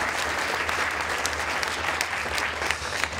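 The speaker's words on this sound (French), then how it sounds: "On peut applaudir." Dense, steady applause from an audience at a French talk session on the private life of Sherlock Holmes, sustained at even strength throughout with no voices over it.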